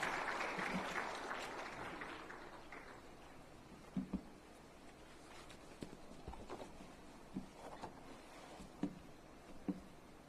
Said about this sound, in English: A big round of applause to him.